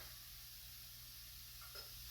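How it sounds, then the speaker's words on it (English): Food sizzling steadily in a pan over medium heat, a soft continuous hiss with a faint stirring scrape near the end, alone with no talk. "we're gonna let that sizzle away a little bit on kind of a medium heat"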